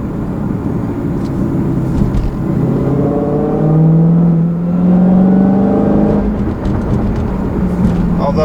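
A 2016 Dodge Challenger Hellcat with a six-speed manual pulls hard in third gear through corners, its engine droning and rising in pitch under load, loud and close, easing off briefly before climbing again.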